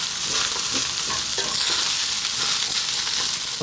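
Tuna broccoli fried rice sizzling and frying in a pan, a steady loud hiss with soft rhythmic scraping as it is stirred, no voices.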